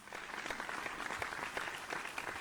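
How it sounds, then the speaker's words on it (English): Faint, steady applause from a television vocal-competition studio audience, an even wash of clapping with no talk over it. "Folks, another round of applause for Chris."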